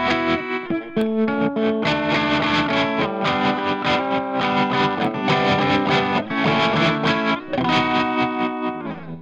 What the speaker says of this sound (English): and kind of staccato modern tremolo sounds.